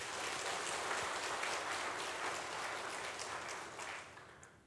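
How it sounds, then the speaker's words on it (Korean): A Korean church congregation claps together during a Sunday worship service, a steady, fairly soft roomful of applause that slowly tapers off. "하나님께 우리 영광의 박수 한번 올릴까요?"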